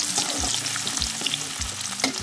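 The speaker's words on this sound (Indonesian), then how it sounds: "sekarang kita masak sambelnya ya" Tomato chili sambal with shallots and garlic fries in a pan, sizzling loudly and steadily, with repeated stirring scrapes breaking through the crackle.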